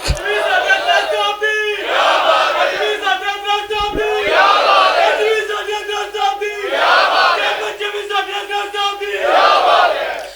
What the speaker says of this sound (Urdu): او بھائی ایسے نعرے نہیں لگ رہے